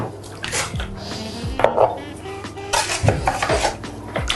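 Kuyrdak, a Kazakh braised meat dish, is spooned from a pot into a serving dish, with metal utensils clinking and scraping against the dishware in several short, close clatters.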